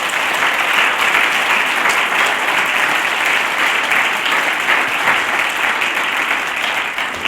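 A large crowd at a city design awards ceremony applauds its honorees with loud, sustained clapping that holds steady from start to finish, with a faint murmur of voices underneath.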